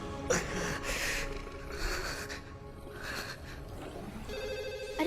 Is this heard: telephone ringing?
yes